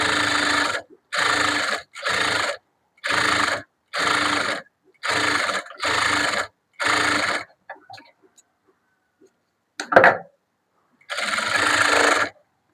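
A sewing machine stitches the lining of a blouse in rapid, loud bursts of about a second each, repeated several times, then falls silent before a short clunk and one final burst.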